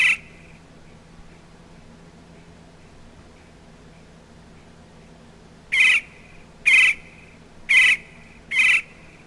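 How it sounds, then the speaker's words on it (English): Five short, bright chirps from a Payday 2 game sound file: one at the very start, then four evenly spaced chirps close together near the end, with a faint steady hum between them. "Birds."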